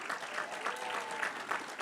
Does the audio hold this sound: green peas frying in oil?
no